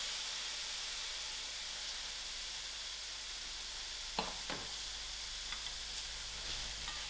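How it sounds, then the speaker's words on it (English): Mixed vegetables fry in a pan with biryani dhal for a paneer biryani. An even, quiet sizzling hiss continues throughout, broken by a few brief stirring scrapes near the end. "While my biryani dhal is fried, I'm just going to add in my mixed veg."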